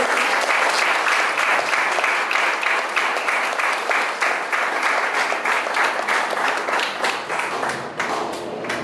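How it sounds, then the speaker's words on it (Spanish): A church congregation at a Wednesday worship service claps strongly and steadily, with a dense, continuous patter of hands that runs unbroken for about nine seconds. "Un fuerte aplauso a Dios."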